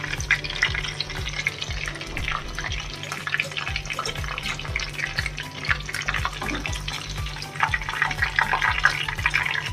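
Chicken pakoras sizzle steadily in hot oil, a close, continuous crackling fry with a low rhythmic hum underneath and no talking.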